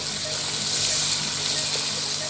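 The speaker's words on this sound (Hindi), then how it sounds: "अब इस वक्त मैं थोड़ा सा पानी अंदर ऐड कर रही हूँ ताकि हमारा मसाला नीचे ना लगे" Water being added to cooking masala in a pan, giving a continuous hissing, gushing wash of sound that is close and steady for a couple of seconds, with no speech.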